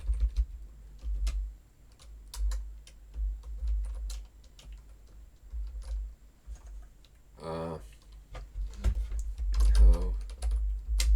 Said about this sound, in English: And I'll type out our write method.